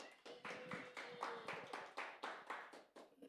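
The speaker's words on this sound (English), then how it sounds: "Another round of applause for Jennilicious." Applause from a stand-up comedy audience for a local comedian, a quiet, distant run of about a dozen separate clap bursts in a steady rhythm.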